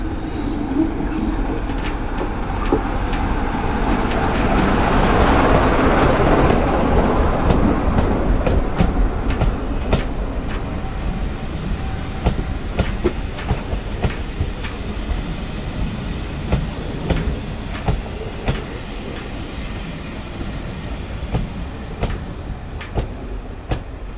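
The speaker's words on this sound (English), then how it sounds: "You know I like my trains." A train rumbles past nearby between Matlock and Cromford in bad weather, loud and steady, with rhythmic wheel clatter and occasional squeals fading slightly as it continues.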